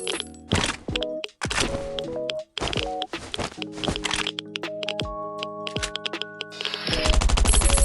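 Rapid gunfire from a boss fight in the survival game Last Island Survival, loud bursts of shots in choppy clusters, then a dense sustained barrage of automatic fire at the end, with no talking.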